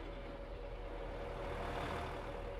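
Tractor engine in the Farming Simulator 22 video game drones loudly and steadily under full throttle, its low rumble rising slightly with no talk over it.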